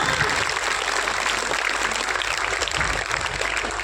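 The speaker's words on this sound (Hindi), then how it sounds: "जोरदार ताली से स्वागत कीजिए मेरे माँ बाप का" A crowd claps loudly to welcome parents at an Independence Day school celebration in Baruwali, with steady dense applause filling the whole moment and faint voices mixed in.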